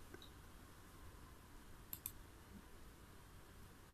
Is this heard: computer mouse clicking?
yes